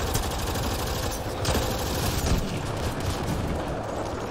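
Sustained, dense gunfire from Mass Effect Andromeda multiplayer, a loud, continuous barrage of shots packed together with no pauses and no voices.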